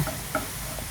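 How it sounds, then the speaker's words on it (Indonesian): Shallots dry-roasting without oil in a Teflon pan, giving a close, steady soft sizzle with faint ticks of stirring running evenly throughout. "sekarang kita akan sangrai bawang merahnya sampai kering seperti bawang goreng."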